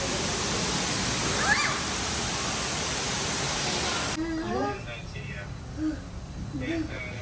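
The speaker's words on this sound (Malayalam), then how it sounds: "ഫുൾ വെള്ളച്ചാട്ടത്തിൻ്റെ സൗണ്ട്." Steady broadband rush of an indoor waterfall in an airport, loud and continuous, then quieter with people talking over it.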